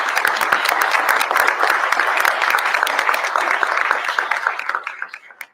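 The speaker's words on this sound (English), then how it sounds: "give everyone who participated a big thunderous round of applause" A crowd at an outdoor unveiling of an inductive-charging roadway in Detroit claps in sustained, loud applause that thins into scattered claps and fades out at the end.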